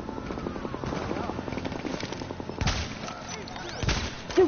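Rapid automatic turret gunfire from The Division, a steady rattling burst that runs through the clip, with heavier impacts and louder bangs toward the end and no talking over it.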